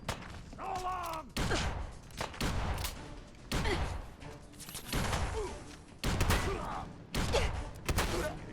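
Heavy shotgun blasts from a wounding shotgun in Fallout 4, fired repeatedly at a steady pace of about one per second, loud and booming, with game sounds and faint voices between the shots.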